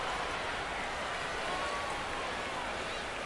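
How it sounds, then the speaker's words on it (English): Steady pouring rain during a ballgame in MLB The Show 26, a dense continuous hiss that stays even throughout, with no other clear sounds above it. "It's pouring down rain, but she didn't lose her focus."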